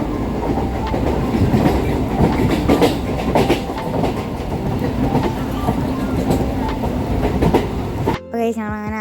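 A moving train rumbles steadily with rhythmic clickety-clack of wheels on rails, loud and close from inside the carriage, cutting off abruptly near the end.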